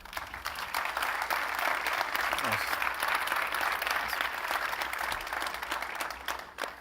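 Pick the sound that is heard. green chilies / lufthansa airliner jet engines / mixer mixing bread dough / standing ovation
standing ovation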